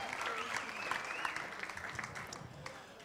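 An audience applauds a singer after her performance, a dense, steady clatter of clapping from a sizable crowd, with faint tonal sound mixed in and a slight easing toward the end.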